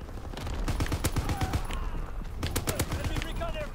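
Artillery fire in a WWII multiplayer video game: rapid, dense bursts of booming shots crowd together close and loud, with a brief voice under the barrage.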